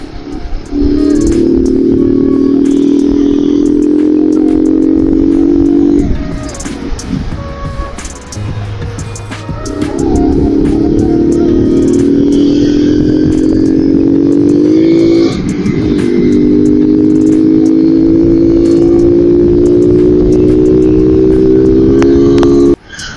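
A motorcycle rides along a road, its engine close and loud, rising in pitch through three long acceleration pulls with brief dips between them, over rushing wind noise.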